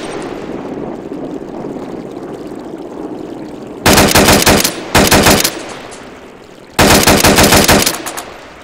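Machine gun fire in the video game Arma 2: three loud sustained automatic bursts of roughly a second each, with short pauses between, standing out over a steady ambient rumble.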